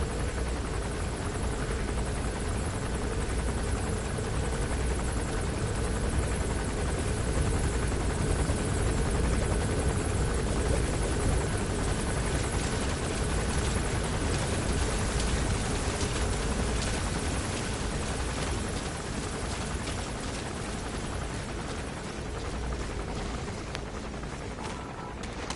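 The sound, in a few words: helicopter flying in a video game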